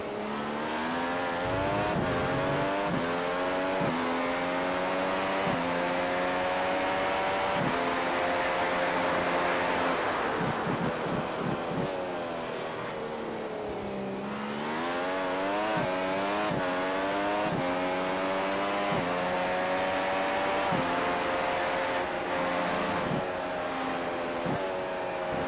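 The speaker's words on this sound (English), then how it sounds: "just listen to these machines. Such a unique sound on these hybrid engines" Hybrid race car engines heard onboard in the iRacing Grand Prix Series at Circuit of the Americas, a steady high-pitched whine rising and falling through gear shifts, with a brief dip mid-way before climbing again.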